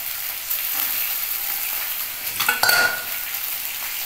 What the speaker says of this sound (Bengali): এগুলো একসাথেই ভাজা হচ্ছে।